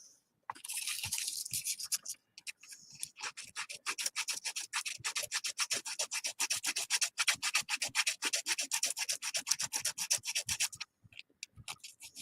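Sandpaper scrubs against a small diorama part in quick back-and-forth strokes, a dense run of close, raspy rubs lasting about ten seconds.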